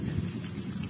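Steady rain falls on a mountain with a low thunder rumble underneath, a dense, continuous wash of sound lasting about a second.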